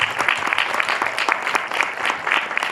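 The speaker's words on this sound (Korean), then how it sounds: "박수 부탁드릴게요" Applause from an audience at a film screening Q&A at a cinema, a close, uneven burst of clapping with individual claps audible through the short stretch.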